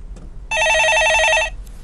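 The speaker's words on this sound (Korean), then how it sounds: "예, 전화 받아보겠습니다." A telephone rings loudly and alone in a studio for about one second, a steady warbling electronic ring.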